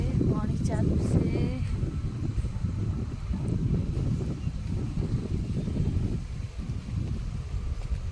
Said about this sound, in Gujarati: વાયરો ઘણો આવે છે.